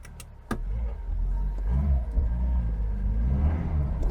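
A Citroen GSA car being driven on a road with damp brakes, its engine rumbling low and steady from inside the cabin after a couple of sharp knocks at the start.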